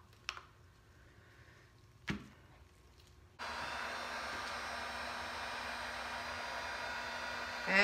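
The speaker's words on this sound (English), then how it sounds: "now I'm going to get my heat gun up" A heat gun switches on and blows steadily over a resin painting, a constant close whooshing hiss that follows a few soft knocks in a quiet room.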